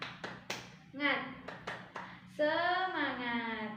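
Indonesian second-grade pupils in class doing a rhythmic clap chant: several sharp hand claps spaced in a beat, interleaved with sung, chanted voices of children and a teacher, close and clear.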